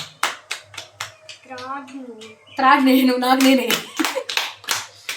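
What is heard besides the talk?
hands clapping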